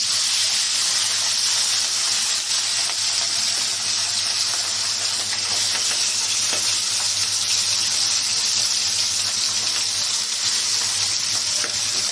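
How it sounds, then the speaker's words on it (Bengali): Marinated hilsa fish frying in hot oil, a steady dense sizzle and hiss that holds loud and even throughout. "এখন ম্যারিনেট করে রাখা ইলিশ মাছগুলোকে গরম তেলের উপর ছেড়ে দিচ্ছি"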